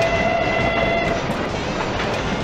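Steady rumbling train ride in a video game, a continuous rolling clatter with a sustained whistle-like tone fading out partway through, loud and close with no talking.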